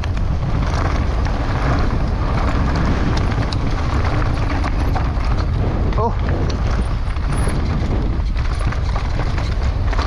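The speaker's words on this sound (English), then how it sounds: "Whoa, that's windy." Strong wind buffeting the microphone during a fast mountain bike ride at Dyfi Bike Park, a loud continuous roaring rumble with rattles from the bike over rough ground.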